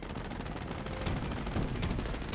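Dense battlefield gunfire in a Company of Heroes 1 match, with a Greyhound armored car firing amid constant rapid shots and rumbling combat noise, continuous and fairly loud without talk.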